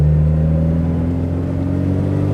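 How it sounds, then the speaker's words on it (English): The small naturally aspirated engine of an original Morris Mini Cooper S race car holds a loud, steady, buzzing drone at high revs from the cabin throughout, with no speech. "because it's a little naturally aspirated engine, all the revs are at the top"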